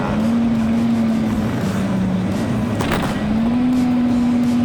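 A merchant's truck runs fast downhill on a mountain road, with a loud, steady engine drone and rushing road and wind noise that dip slightly before picking back up.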